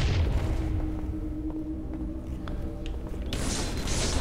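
Grenade blast in the video game Halo, a loud low boom that opens the clip, then a rumbling tail with a fresh burst of noise near the end.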